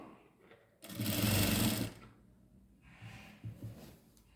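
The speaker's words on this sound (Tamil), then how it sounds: "இதை அப்படியே நேராக நம்ம தைச்சிருவோம்" An electric sewing machine stitches pleats on a lining skirt in a single loud, steady burst of about one second, then stops, leaving faint rustling and light handling of fabric.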